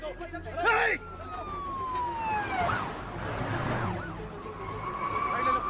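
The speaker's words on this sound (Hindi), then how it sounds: "पुलिस की गाड़ी आ रही है, जल्दी।" A police car siren in a Hindi-dubbed South Indian film scene wails in rising and falling sweeps as the vehicle approaches, mixed with a tyre-skid-like screech and engine noise.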